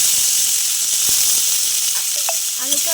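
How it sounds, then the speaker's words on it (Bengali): Potato pieces fry in a pan with cumin seeds and oil, producing a bright, continuous hissing sizzle close up, with a few small pops and clinks and no talking. "আলুটা একটু ভাজা ভাজা করে নেব।"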